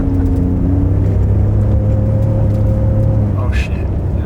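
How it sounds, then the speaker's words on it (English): A Ford F250 truck doing a burnout holds a loud, steady engine roar close by, with a short harsh hiss near the end. "You're just gonna burn out."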